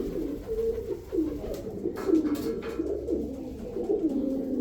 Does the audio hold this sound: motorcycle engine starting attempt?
no